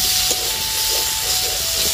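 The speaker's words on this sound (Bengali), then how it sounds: "ভালো করে নেড়ে চেড়ে ভাজা করে দিচ্ছি" Flat beans sizzle in hot oil with a continuous close hiss and faint crackles, and no one speaks.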